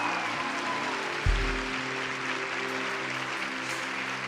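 A church congregation at a women's conference applauds for Jesus with continuous clapping under a sustained background tone, and a single low thump partway through.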